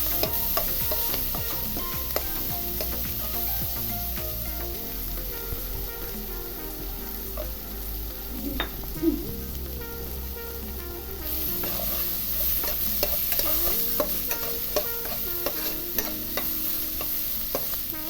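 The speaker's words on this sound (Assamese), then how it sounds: "সেইখিনি গৰম তেলতে অকণমান ভাজি ল'ম।" Seven or eight garlic cloves sizzle steadily in hot oil in a pan for a fish curry, close and continuous, with occasional stirring scrapes and no talking.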